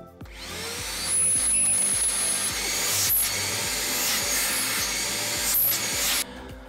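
A Vacmaster Power 30 PTO shop vacuum runs steadily for several seconds with a loud, constant motor roar and airflow hiss, a faint high whine riding on top, and some brief bumps and knocks from handling.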